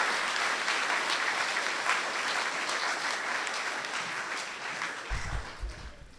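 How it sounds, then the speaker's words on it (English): Audience at a school information evening applauding a student panel, a steady round of clapping that slowly fades, ending with some low thumps. "let's give them a round of applause"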